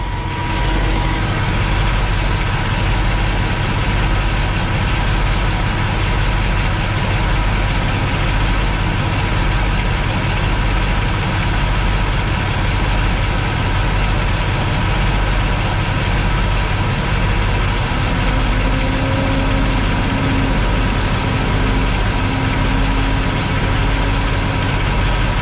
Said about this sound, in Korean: 돌쇠 엔진 소리 한번 들어보실래요?